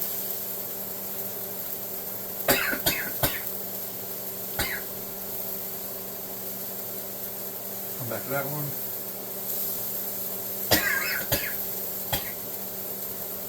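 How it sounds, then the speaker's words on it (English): A man coughs in a home kitchen while cooking steak and potatoes, with several sharp coughs in bursts and one deeper throat-clearing cough, close, over a low background hum, and a brief spoken remark. "Usually the episode just watching me cough endlessly for 5 minutes."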